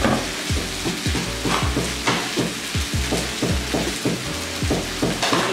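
Kway teow noodles stir-fry in a hot wok with loud, steady sizzling, broken by a regular rhythm of sharp scraping and clanking strokes from the spatula, close up and with no talking.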